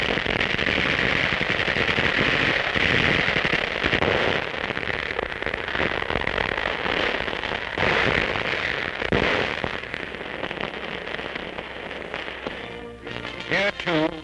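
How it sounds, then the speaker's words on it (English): Rapid gunfire and explosive bursts from World War II jungle combat in New Guinea roar continuously and loudly, with dense crackling volleys throughout. "Yanks and Australians blast the enemy's last foothold on the island."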